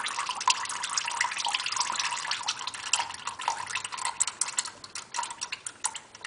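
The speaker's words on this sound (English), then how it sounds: "Let a big portion of the oil flow out first." Engine oil drains from an Infiniti G37S during an oil change, making a continuous trickling splash punctuated by irregular drips, close and fairly loud with no talking.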